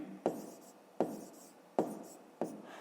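Chalk or marker taps and strokes on a board in four short, evenly spaced bursts, each a sharp tap trailing into a scratch, with a quiet room behind.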